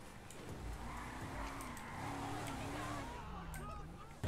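Michael's jeep in GTA V driving along with a steady engine drone and some tire noise, close and continuous, while a voice speaks over it.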